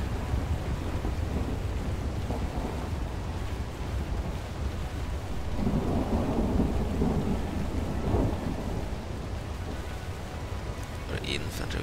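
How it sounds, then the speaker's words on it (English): Low rumbling thunder in Total War: Warhammer rolls beneath steady rain, swelling midway and fading, with a continuous hiss of rainfall throughout. "Thunder."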